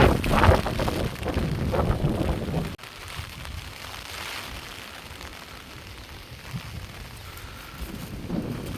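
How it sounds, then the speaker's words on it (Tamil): Strong storm wind roars and buffets the microphone, loud and turbulent at first, then dropping abruptly to a lower steady rushing that swells again near the end, with rain falling as a large tree sways. "காற்று சத்தம் வேகமாக இருக்குது பாருங்க"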